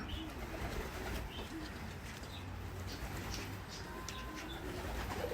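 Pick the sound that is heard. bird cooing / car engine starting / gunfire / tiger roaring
bird cooing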